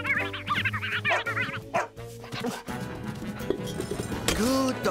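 A cartoon dog from Bob the Builder barks several times in quick, bright yips and bow-wows, mixed with clinking sounds and busy background noise, with a voice heard faintly.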